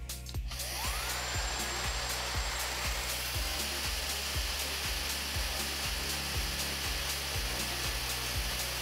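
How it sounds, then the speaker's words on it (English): A TYMO AirHype Lite hair dryer runs close up with a steady, loud whooshing airflow and high whine, punctuated by regular faint clicks as the heat setting cycles; no one speaks. "So you'll turn it on and then you'll have to hit this bottom button right here to adjust the heat setting."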